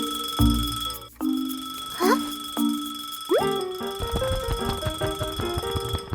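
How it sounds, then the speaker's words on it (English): A cartoon alarm clock goes off on a table: a few separate bright dings and boings ring out one after another, then a busier run of quick jingling chimes follows, close and loud. "Suddenly, the clock starts ringing loudly."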